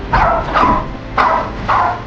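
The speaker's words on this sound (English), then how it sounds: "A dog's bark echoed from the corner of the room" A dog barks four times in a steady rhythm, close and loud, each bark short and slightly echoing.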